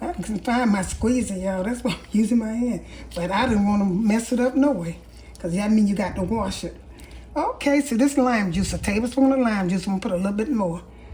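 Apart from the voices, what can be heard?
No distinct noise like a dog, phone or traffic.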